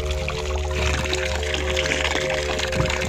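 Cold water runs from a pipe fitted into a mountain spring in Uri, Kashmir, pouring in a steady, close trickle and splash that continues without a break, no voices over it.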